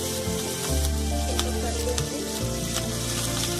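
Peanuts and green chillies sizzling in hot oil for bread upma, a close, continuous frying crackle with occasional stirring scrapes.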